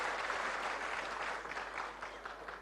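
Audience at a political gathering in Nagpur clapping together, a sustained burst of applause heard from a distance at moderate level, tapering slightly toward the end.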